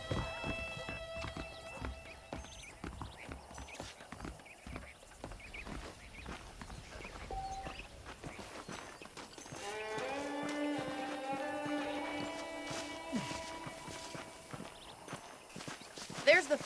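Horse hooves clip-clop at a steady walking pace while riding in Red Dead Redemption, faint and close, under speech and a soft musical score.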